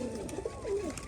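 Pigeons coo in soft, repeated low calls while pecking at scattered mustard seeds, several birds close by and steady throughout.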